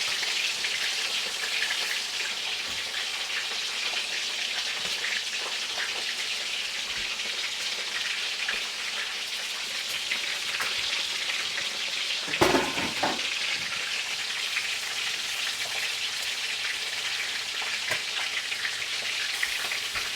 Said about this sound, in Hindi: बस इसको अब हमने फ्राई करनी है